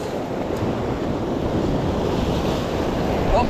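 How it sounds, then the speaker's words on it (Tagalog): Ocean waves washing against a rocky shore at a fishing spot, a continuous loud surf roar with wind rumble, close and steady throughout without talk. "Hinain na ng alon."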